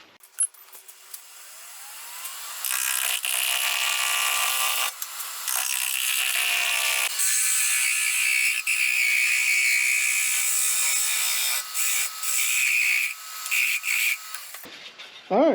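A metal lathe turns a steel blank round against a carbide-tipped tool. The cutting makes a sustained bright whine and scrape that starts up after a couple of seconds and runs with small fluctuations before stopping.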